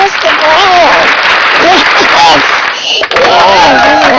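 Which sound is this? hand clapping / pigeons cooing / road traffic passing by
hand clapping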